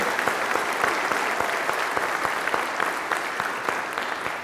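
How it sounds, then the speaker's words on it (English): An audience in a church claps steadily, a dense even patter of applause from many hands that holds at the same level throughout. "Give them a wonderful round of applause."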